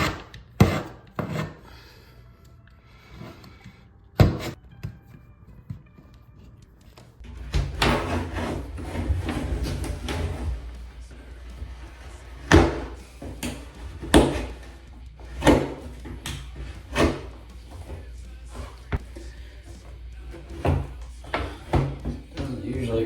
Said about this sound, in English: Take our knife, cut out as much old caulk as we can.